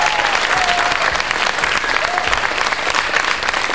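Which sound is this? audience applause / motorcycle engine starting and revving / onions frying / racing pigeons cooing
audience applause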